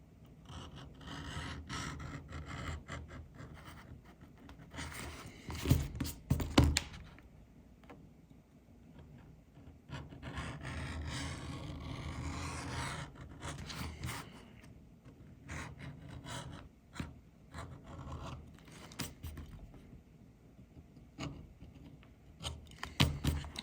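Beveling tool scraping and rubbing along the edge of a leather piece, close and intermittent with short rasping strokes and a few sharper bursts, no talking.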